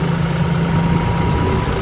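A tractor carries people out of a village toward a workshop to collect a new super seeder. Its engine gives a loud, steady low drone with a constant throb, unbroken for the whole stretch.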